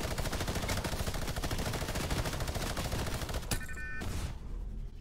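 Rapid, continuous minigun fire in the Fortnite video game, a dense rattling stream of shots that stays loud through most of the clip before breaking off near the end, with a few scattered bursts trailing after.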